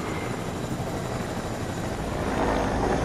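A helicopter in the video game Fortnite flies with a steady, dense rotor and engine drone, close and constant throughout, with no talking.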